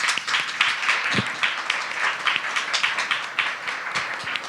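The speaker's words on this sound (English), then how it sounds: "Let's give a round of applause for our panelists." An audience at a farming panel discussion claps steadily for the panelists. The applause is dense and continuous, fairly close, with a few louder individual claps standing out throughout.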